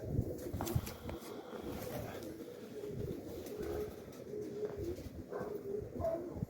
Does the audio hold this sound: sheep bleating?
no